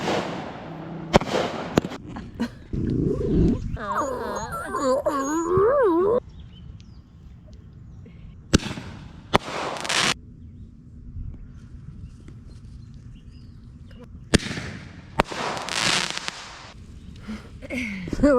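Fireworks set off near a boat, with several sharp loud bangs and crackling bursts spaced apart, mixed with whistling, squealing sounds and quiet gaps between blasts.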